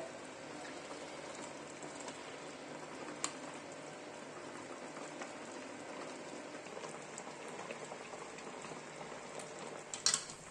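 A pot of homemade chicken gravy simmering steadily at a low level, a continuous bubbling hiss with a few small clinks near the end.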